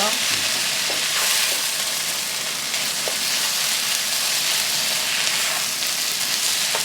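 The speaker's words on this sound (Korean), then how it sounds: "진하게 볶아주세요." Onions and zucchini stir-frying in a hot pan, a steady loud sizzle with occasional clicks of a utensil scraping and stirring.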